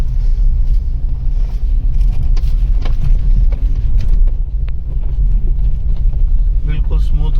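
A Maruti WagonR BS6 car with freshly repaired suspension rolls out of a workshop on a test drive, a steady low engine rumble and road noise running throughout, close and continuous, with faint knocks over the top.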